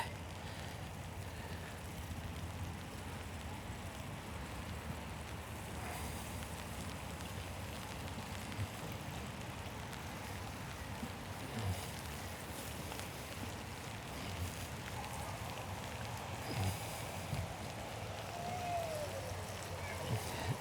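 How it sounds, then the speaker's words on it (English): Light rain patters steadily outdoors in Strasbourg, France, a soft continuous hiss with occasional faint drips and a distant low rumble. "it's definitely still raining a little"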